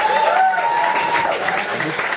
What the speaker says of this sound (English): give a round of applause for Keith